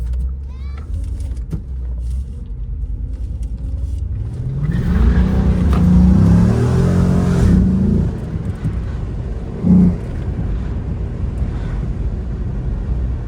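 A 2006 Chrysler 300 SRT8 engine accelerating hard, its loud rising roar swelling midway through and then easing off, heard from nearby with some background noise.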